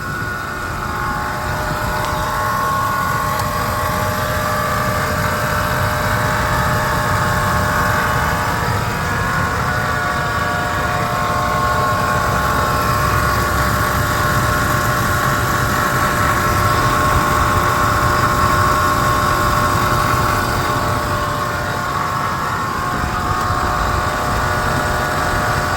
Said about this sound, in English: Motor started right up. Didn't have any trouble as far as that goes, but it is a little bit louder.